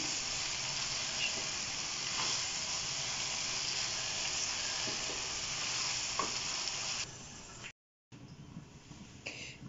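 Daal mash with black pepper and garam masala stirred in a hot pan, a steady close sizzle and hiss with occasional soft scraping strokes, briefly cutting out near the end.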